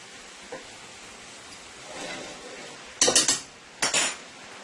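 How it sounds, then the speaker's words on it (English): Cooked rice tipped back into a metal pot for Guyanese-style chicken and beef fried rice, a faint soft rustle followed by two loud bursts of clattering scrapes and clinks of a spoon against the pot, close and without talk. "let's go ahead and add our rice back into the pot here"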